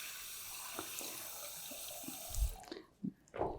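Water runs from a tap into a pot for cooking, a steady hiss with a few splashy bursts near the end, close and fairly quiet with no talk.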